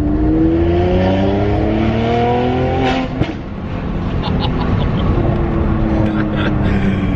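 A tuned 460 bhp Stage 2 Mercedes-Benz C43 AMG engine pulls hard and rises in pitch, eases off briefly with a sharp pop, then climbs again, loud and close throughout.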